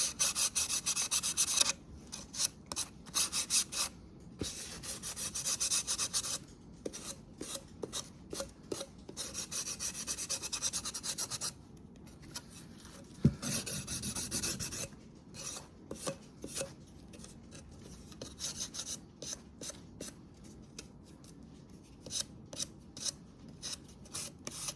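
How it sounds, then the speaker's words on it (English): A small palm sander works a surface for a winter home decor craft, giving a steady close rasping, scratchy run broken into short bursts and pauses, with no talk over it. "let's take our little palm sander and sand"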